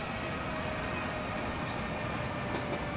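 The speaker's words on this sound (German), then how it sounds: "Da drüben kommt gerade die S-Bahn an." An S-Bahn commuter train pulls into a station in the video game Transport Fever, heard as a steady dense rail rumble with a faint high whine throughout.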